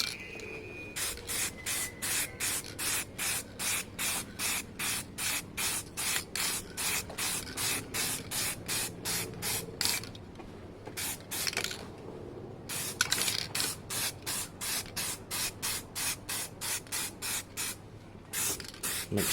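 Aerosol spray paint applied to a Suzuki GSX-R 600 K2 motorcycle part in quick repeated hissing bursts, a steady rhythm of short sprays with a brief pause midway, close and fairly quiet.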